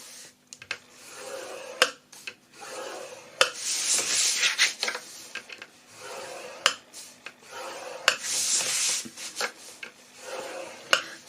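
Paper is scored on all four sides with a scoring tool for a gift box, giving repeated scratchy rubbing strokes broken by sharp clicks and taps, close and fairly loud with no talk.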